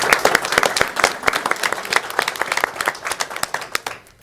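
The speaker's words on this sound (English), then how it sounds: "if everybody in this room would give them a big round of applause" A room full of people gives a big round of applause at a live event, dense close clapping that stays steady, then thins and fades out at the end.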